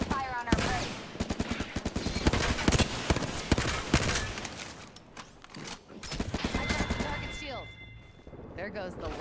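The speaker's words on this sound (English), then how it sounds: "Opening fire on our prey." Rapid bursts of automatic gunfire from an Apex Legends battle royale match, loud and close, firing in dense volleys with brief pauses, mixed with game effects and a voiced character line.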